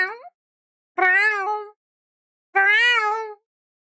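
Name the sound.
person imitating a cat meowing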